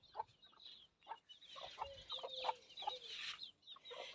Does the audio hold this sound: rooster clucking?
yes